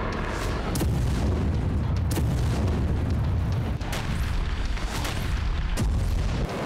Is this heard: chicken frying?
no